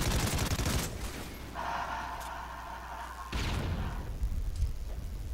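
Dense gunfire and bursts in Call of Duty Ghosts team deathmatch multiplayer, loud and continuous with a sustained whooshing tone through the middle, players shooting from down the street.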